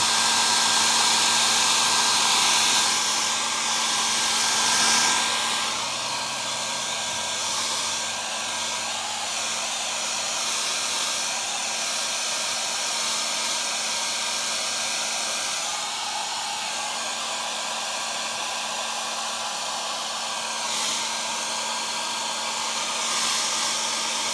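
A dryer on a warm, moderate setting blows air onto freshly painted leather on a steering wheel, producing a loud, steady whooshing drone with a constant motor whine that continues throughout.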